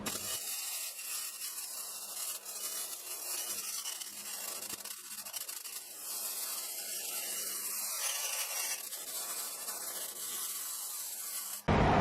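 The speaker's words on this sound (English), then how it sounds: "So now it is time to weld up the EGR bung on this little itsy bitsy baby little header" Welding an EGR bung onto a small exhaust header for a V6 drift Mustang: a steady, close, broadband sizzling crackle that runs unbroken for about eleven seconds, with no talking.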